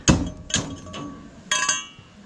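Four sharp metallic hammer strikes ring out at an uneven pace, each with a bright clinking decay, close by with no voices.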